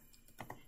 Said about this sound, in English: I type in O for offset down here